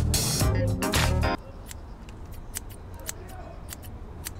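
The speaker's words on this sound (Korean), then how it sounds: "모기를 가위로 잡아보려고 했는데 실패했어요." Scissors snap shut at a mosquito inside a car during a DIY navigation install. A loud tonal burst opens the moment, then a string of faint, quick, close metallic snips follows at irregular intervals.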